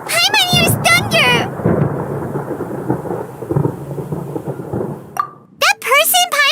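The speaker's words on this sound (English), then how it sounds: "Paimon hears thunder!" Deep thunder rumbles in the Genshin Impact video game, rolling low under game sounds and chimes, with short sharp tones before and after the rumble.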